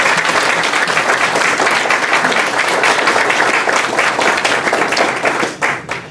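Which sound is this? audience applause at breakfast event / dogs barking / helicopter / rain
audience applause at breakfast event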